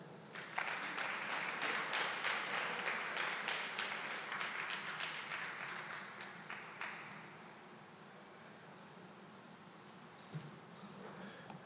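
Conference audience applause after a speech at a district development model conference, a thick wash of clapping that is steady at first, then thins and tails off into a few scattered claps.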